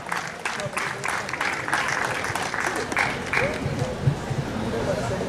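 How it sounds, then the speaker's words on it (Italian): Crowd applause at an outdoor singing festival in Sammichele di Bari, steady clapping from an audience with voices and cheers mixed in, moderately loud and continuous. "davvero meritano un applauso"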